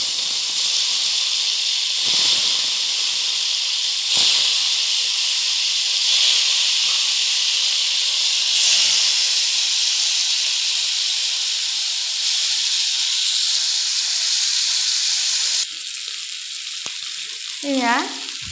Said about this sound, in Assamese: মই মাছখিনি ভাজি লৈ আছোঁ।